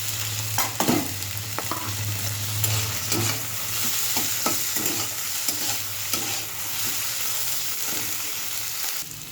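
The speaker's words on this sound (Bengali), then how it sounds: "লাল লাল করে ভাজা হয়ে গেছে" Sliced bitter gourd fries in ghee in a pan, a steady close sizzle broken by repeated scraping stirs of a spatula against the pan, with no voices heard.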